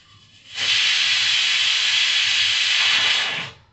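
A pressure cooker of kabuli chickpeas and rajma kidney beans, which has already whistled four times, vents steam in one loud, steady, close hiss that starts abruptly and lasts about three seconds before tapering off.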